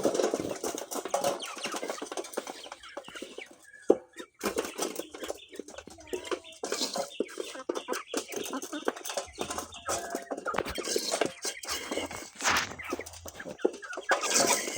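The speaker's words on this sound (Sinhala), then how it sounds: "ඔන්න බලා ගන්න කුකුල් පැටවුන්ට කෑම දෙනවා." Chickens and young chicks cluck and chirp busily while scattered feed is thrown to them outdoors, a steady mix of close fowl calls with occasional wing flaps and scratching, no talking.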